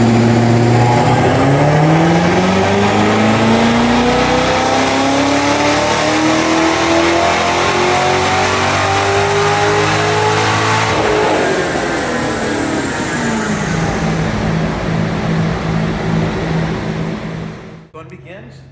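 A modified Corvette C7 Z06 builds revs hard and loud on a test run, its engine pitch sweeping upward through gears, dropping, then climbing again before cutting off abruptly at the end.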